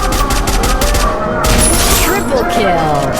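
Rapid, continuous gunfire from a battle royale video game keeps a dense stream of loud cracks going throughout. A burst of louder overlapping shots comes near the middle, with a voice commentating over the action.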